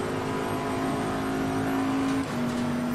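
Race car in Assetto Corsa Competizione accelerating hard out of a corner toward a chicane, a steady rising engine drone with a brief gear-change dip near the end, close and continuous with no talk.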